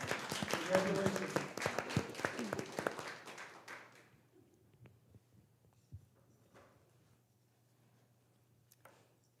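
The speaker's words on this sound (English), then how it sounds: "Can we give it another applause?" Applause at a school district board of education meeting: a short burst of clapping from a small group that fades after about four seconds, leaving a low hum, faint taps and room noise.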